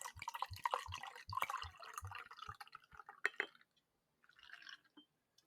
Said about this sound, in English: I'll pour this one out in my fancy glass